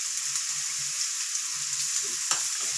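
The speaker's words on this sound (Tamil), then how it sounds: "நல்லா வதக்கி விட்டுக்குங்க வெங்காயத்தை" Onion, green chili and ginger sautéing in a pan, a steady bright hiss of frying with faint soft stirring movements beneath it, close and continuous, no voices.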